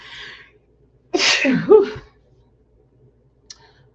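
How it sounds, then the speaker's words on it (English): A single loud, close sneeze bursts out after a brief quiet breath, then silence with a faint click. "Ooh, I want to sneeze."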